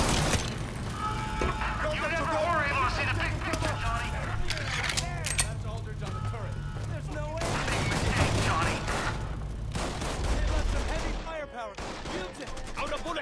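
Gunfire in Mafia 3 Definitive Edition, with repeated bursts and single shots cracking throughout a busy firefight, mixed with shattering impacts and talk from game characters.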